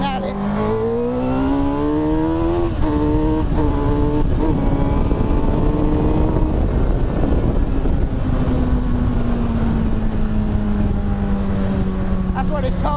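A Honda CBR1000RR motorcycle accelerating hard on a road, its engine note climbing steeply through the revs in a loud, close wail, then dropping at a gear change before rising again and finally settling into a long, steady high-speed drone.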